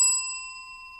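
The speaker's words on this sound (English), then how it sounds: "I just noticed, is this a new bell?" A small metal bell like a bicycle bell is struck once during a tabletop card game, giving a bright ring with clear overtones that decays across the second, alone and close.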